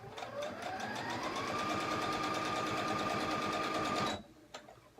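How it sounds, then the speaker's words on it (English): A sewing machine stitches fabric edges for a cloth baby book, humming in a steady close whir with a rapid needle rhythm for about four seconds before stopping abruptly. "I'm just gonna sew a couple inches up each edge to make myself a pocket."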